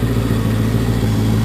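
A 1967 Ford Mustang's 289 V8 idles in the engine bay, a loud, steady, even low rumble close to the microphone with no talking.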